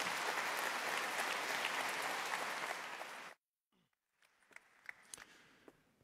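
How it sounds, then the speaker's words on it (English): A conference audience applauds an invited speaker at a machine-learning talk: dense, loud clapping fills the hall, then cuts off abruptly, leaving a quiet room with a few scattered sounds. "let's give him an applause"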